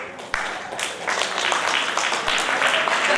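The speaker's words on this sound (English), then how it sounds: "Please clap." Audience applause at an entrepreneurship panel event, steady crowd clapping rising after a brief start and filling the whole stretch at a fairly loud, even level.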